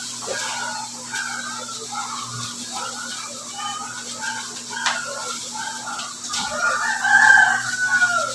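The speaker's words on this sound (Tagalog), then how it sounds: "Chickens." Chickens cluck and a rooster crows against a steady background hum, the calls moderately loud and scattered throughout, rising near the end.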